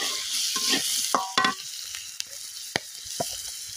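Fried dried puti fish stirred in a pan with salt and turmeric: short scraping strokes and a few sharp knocks over a soft sizzle, close by, with no voices.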